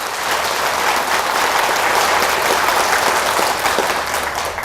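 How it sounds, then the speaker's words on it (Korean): Audience at a Buddhist dharma lecture breaks into sustained, dense applause, steady and loud throughout with no talk over it. "뜨거운 박수 한번 주시기 바랍니다"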